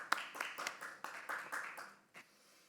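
Sparse, scattered hand claps from a small group at an online weekly project meeting, faint and uneven, with about eight separate claps spread across the moment.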